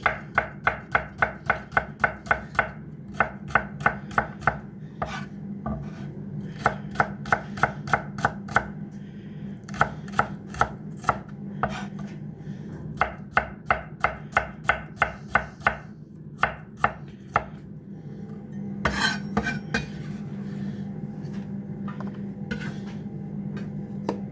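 Knife chopping shallot on a board, with bursts of rapid, crisp cuts in quick runs separated by short pauses over a low background hum, close and clear.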